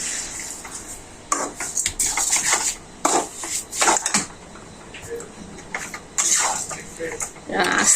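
Coconut, sugar and milk are stirred in a pan for narkel sandesh, giving repeated scraping and clinking of a spoon against metal at close range, mixed with kitchen noise.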